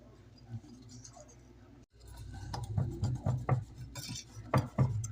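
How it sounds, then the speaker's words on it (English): Pancake batter whisked in a bowl, giving a run of quick clinking, scraping strokes that grow busier after a short pause, close and fairly quiet. "I'm going to go ahead and start whisking."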